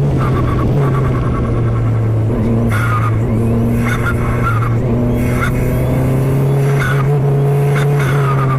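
Formula 4 race car engine at full effort on a circuit, heard loud and close from onboard, a sustained high buzzing drone that climbs in pitch, drops sharply at gear changes, then climbs again.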